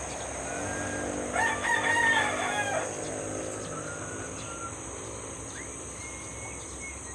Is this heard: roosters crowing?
yes